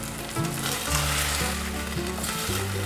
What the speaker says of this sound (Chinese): 可以把水加进来了